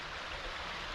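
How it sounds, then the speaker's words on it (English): A small river in the Scottish Highlands north of Tyndrum, swollen after rain, gives a steady broadband rushing of flowing water, continuous and moderately close, with no talking. "and then we've got this little river here"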